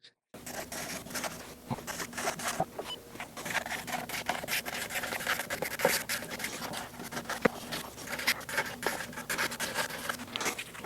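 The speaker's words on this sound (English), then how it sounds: "I really like using this for having something ergonomical to hold on to while I polish the frets" Micro mesh polishing the frets of a Gibson SG '61 Standard guitar, a steady close scratchy rubbing that continues throughout with irregular strokes at moderate loudness.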